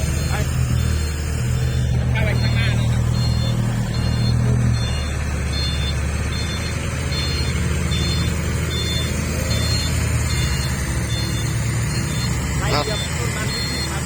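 A Fuso truck's diesel engine roars and revs loudly and steadily throughout, with a heavy low rumble that swells and eases, while people talk over it.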